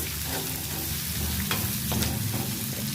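Flat beans with garlic being stir-fried in a pan over low heat, with a steady close sizzle and scraping stirs running through the whole stretch, no talk.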